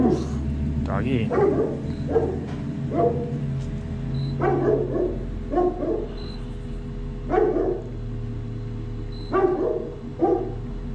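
Dog barking at a Halloween display, repeated sharp barks in short bursts spaced every second or two, close and fairly loud, with some talk in the background.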